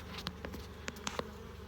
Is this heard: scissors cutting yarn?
no